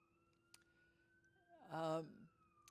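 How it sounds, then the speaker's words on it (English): A faint siren wails in the distance, a thin steady tone drifting slowly in pitch, with a brief louder voice-like burst partway through. "That siren out there that you hear, that's an inconvenience."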